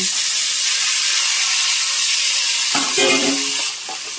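Soaked, boiled chickpeas for sundal, with salt, sizzle in a hot frying pan, giving a steady loud hiss joined by scraping stirring sounds near the end.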